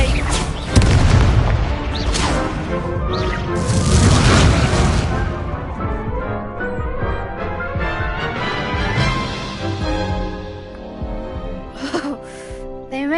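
Incendio fire spell in Hogwarts Legacy goes off with a loud, close blast at the start, then rumbling bursts and a long fiery roar that fades, with game voices and music underneath.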